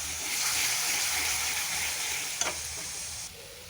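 Spice masala of chilli, cumin and coriander powders, already fried down in a pan, sizzles loudly and steadily after leftover rinse water is added. The hiss fades a little near the end, with one short clatter partway through.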